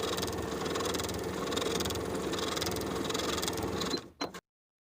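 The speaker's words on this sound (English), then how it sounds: "I'm going to edge stitch that bottom inner fold in place, sewing straight across with about an 1/8 inch seam allowance." A sewing machine runs in one steady, close whirring burst while edge stitching a pocket's bottom inner fold, then slows and stops with a few final stitches before falling silent.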